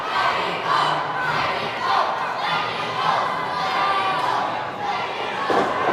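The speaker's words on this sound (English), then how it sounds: "you hear a Mexico chant erupting from the crowd" A wrestling crowd at a title match chants in rhythmic, repeated group shouts, a loud, roaring mass of voices with regular swells and occasional thuds from the ring.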